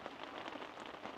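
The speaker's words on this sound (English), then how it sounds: "Yeah, we're getting a real downpour." Heavy rain pours steadily onto a Cabela's ice fishing hot tent at an ATV campsite, making a dense, continuous hiss of close drops with no break and no voices.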